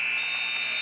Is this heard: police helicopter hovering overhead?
no